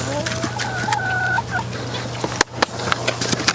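Chickens on a permaculture pig farm cluck and call near the microphone, with short repeated clucks and brief higher calls over a steady low background hum.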